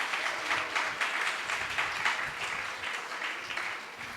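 An audience at a Christian revival gathering for preachers in Narsipatnam, Visakhapatnam district, applauding for Jesus: dense, sustained clapping from a crowd, steady and loud through the whole stretch with no voices over it.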